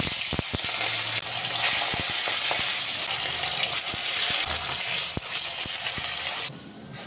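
Mustard oil frying in a pan for a potato and pointed gourd curry gives a loud, steady, hissing sizzle with scattered sharp pops and clicks, close by, before it suddenly quietens near the end.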